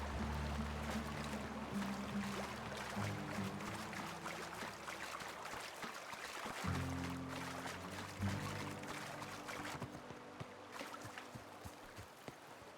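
Steady rushing waterfall in the video game The Outer Worlds, a continuous broadband wash of falling water that stays even and close throughout, with a low ambient hum beneath and no talk.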